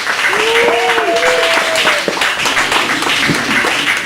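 Audience at a Chicago cafe poetry night applauding the featured poet, a steady wash of clapping from a small crowd lasting several seconds, with a voice speaking over it at the start.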